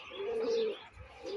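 Racing pigeons at a pigeon club on Nazimuddin Road, Bangladesh, give soft, low cooing calls with faint chirps, close by but quiet, for just over a second with no talking.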